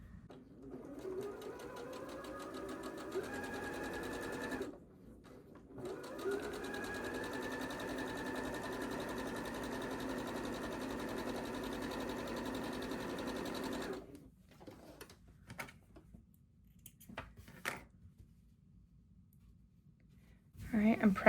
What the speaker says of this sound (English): let's go ahead and sew these together